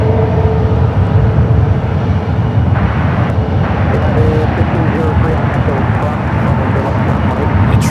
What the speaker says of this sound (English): 777-200 now heading down the 28 right, heading to Honolulu